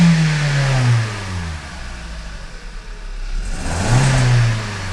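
A car engine is revved hard with the gas pedal floored while an OBD2 scanner is plugged in. Two loud, close surges rise and fall, with a quieter idle between them.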